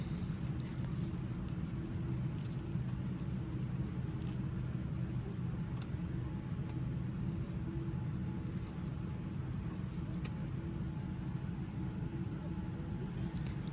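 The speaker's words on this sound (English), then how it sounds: "see the aircraft taxiing along towards the end of the runway" Qatar Airways Boeing 787 taxiing toward the runway, a steady low engine rumble and broadband hum that stays even and continuous throughout, heard from inside the cabin with no talking.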